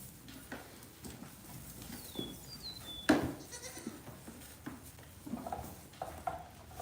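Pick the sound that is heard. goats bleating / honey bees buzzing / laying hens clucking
goats bleating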